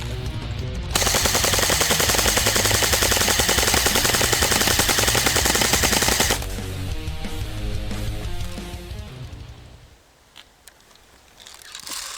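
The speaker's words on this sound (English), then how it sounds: "Now in full out. Double is always better, so why not dual wield guns?" Two CM.508 airsoft guns, dual wielded, fire together in full auto as a loud continuous rattling burst lasting several seconds, then trail off into quieter mechanical clatter with no talking.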